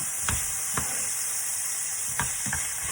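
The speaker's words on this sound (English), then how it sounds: "now you can saute your tomato for again 30 seconds" Half an onion and two tomatoes sautéing in a pan, a steady sizzle and hiss broken by a few soft stirring scrapes spaced across the moment, close and moderately quiet with no talking.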